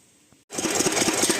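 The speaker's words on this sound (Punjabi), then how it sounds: "ਇੰਜਨ ਵੀ ਕੀਤਾ ਚਾਲੂ ਹੋ ਗਿਆ ਆ ਪਾਣੀ ਵੀ ਚੱਕ ਲਿਆ ਆ" After a brief quiet moment, an engine running a water pump starts up and runs with a fast, rattling, rhythmic chug close by.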